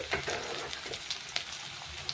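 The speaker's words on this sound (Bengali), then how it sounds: "তো দেখুন বন্ধুরা পেঁয়াজ ভালোভাবে ভাজা হতে থাকুক" Onions fry in a pan with a dense, steady sizzle and light crackle, joined by faint stirring scrapes.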